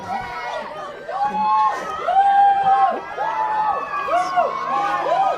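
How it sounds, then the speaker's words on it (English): A big crowd at a high school field hockey game on senior night cheers and shouts after a goal, loud overlapping whoops and yells rising in bursts, with an excited commentator talking over the noise. "this big crowd on senior night goes wild"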